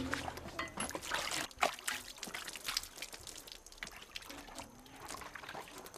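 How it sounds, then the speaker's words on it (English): Water splashes and trickles as a coffee pulping machine is rinsed, with uneven pouring and dripping, moderately close, mixed with light clatter. "Make sure to rinse the machine thoroughly with clean water before filling it with the ripe cherries."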